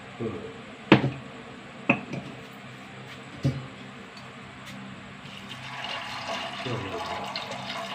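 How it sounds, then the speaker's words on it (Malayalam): Water is poured over lentils seasoned with turmeric, chilli powder and salt. A few sharp knocks sound first, then a steady rushing pour builds up midway and continues to the end. "വെള്ളം ഒഴിച്ച് കൊടുക്കുക"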